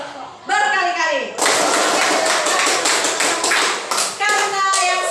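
A classroom of children clapping together on cue, starting with a few single claps and then breaking into sustained loud applause with a voice speaking briefly at the start.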